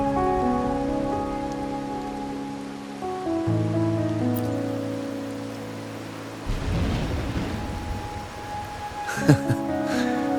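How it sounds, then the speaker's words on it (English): Rain falls in the Wuthering Waves game world, a soft steady hiss beneath sustained background music, with a brief burst of heavier patter near the end. "are you simply passing the time until the rain ends?"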